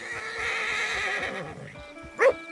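A loud horse whinny in the video game Red Dead rises sharply near the end, after a stretch of steady mid-range game music tones and soft rhythmic hoofbeat thuds.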